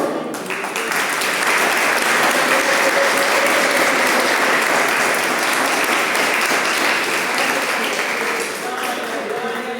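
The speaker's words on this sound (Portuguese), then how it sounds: "As palmas louvam ao Senhor" A church congregation applauds in praise during a service: loud, dense and sustained clapping fills the whole stretch, with a steady wash of many hands and voices beneath.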